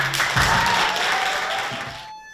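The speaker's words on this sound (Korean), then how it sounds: "학생들이 준비할 때 큰 응원의 박수 부탁드립니다." Audience applause for young students at a performance, a steady wash of clapping that fades out abruptly at the end, with a faint tone lingering.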